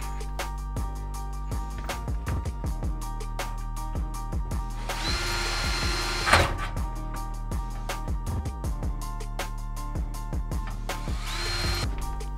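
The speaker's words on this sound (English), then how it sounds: "you can go ahead and begin to pre-drill." A drill pre-drills screw holes in a Blackstone griddle, running continuously with a wavering motor hum, punctuated by repeated clicks and knocks, with a surge of harsher grinding midway.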